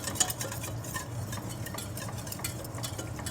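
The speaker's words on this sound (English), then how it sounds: "Pour the milk and cream all at once, whisking constantly until the flour is partially dissolved" A sauce of milk, cream and flour is whisked in a pan, giving a quiet, rapid rhythmic scraping and ticking of the whisk against the metal, low in level, with no voices.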